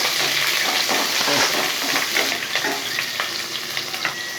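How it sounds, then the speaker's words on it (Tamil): Whole small shallots sizzle and fry steadily in hot oil in a pan for brinjal kara kuzhambu, a continuous close crackle with occasional stirring scrapes and no talk. "ஒரு 15லேருந்து 20 போல் சின்ன வெங்காயம் அப்படியே முழுசாகவே சேர்த்துக்கிறேன், சின்ன பல்லுங்காட்டி. இது லைட்டாக வதங்கட்டும்."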